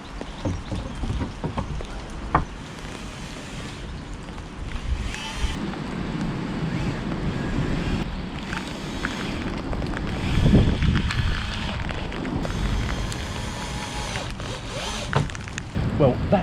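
Rain arrives outdoors with gusting wind buffeting the microphone, a steady patter and rush with occasional knocks and thumps around a fence repair after a storm.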